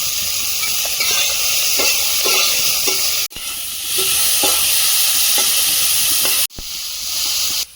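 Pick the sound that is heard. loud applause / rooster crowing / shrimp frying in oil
shrimp frying in oil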